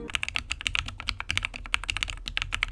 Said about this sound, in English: Now that is the sound of a low profile keyboard.